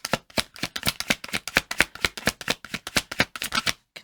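Tarot deck being shuffled by hand, a steady, close run of crisp riffling card flutters repeating in quick rhythm for several seconds with no voice.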